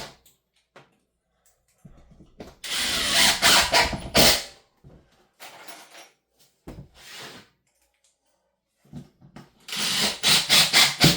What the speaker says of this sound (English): Throw a couple screws in the back there to hold that back of the niche in.